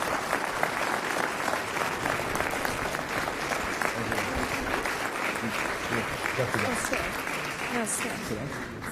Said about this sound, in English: please give a fast. warm round of applause for Kevin Strain